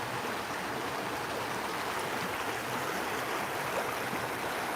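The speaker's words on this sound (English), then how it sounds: "you get to hear more flowing water today" Water flows steadily in a Pokemon video game, a continuous rushing, babbling wash at moderate level that stays even throughout with no speech.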